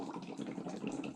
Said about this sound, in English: You're going to blow some bubbles into that water.